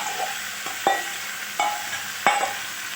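Chicken pieces fry in a pan with ginger-garlic paste for biryani, a soft continuous sizzle broken by four sharp scraping stirs of a spoon, close and with no voices.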